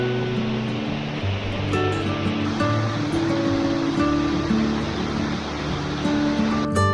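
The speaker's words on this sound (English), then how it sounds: "The river below me in the valley" A river runs through the Swale valley below, a steady broad rush of flowing water that stays even and unbroken throughout, with no voices over it.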